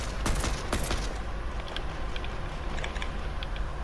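Video game gunfire from an island battle: two sharp shots fire in quick succession near the start, followed by fainter scattered pops over a steady noisy background.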